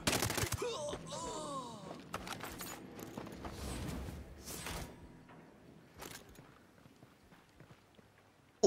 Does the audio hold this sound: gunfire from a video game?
yes